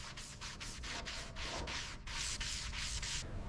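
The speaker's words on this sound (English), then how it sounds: "Hours of sanding." Body filler being sanded on a Dodge car body, a close, steady rasping in repeated back-and-forth strokes with brief pauses between passes.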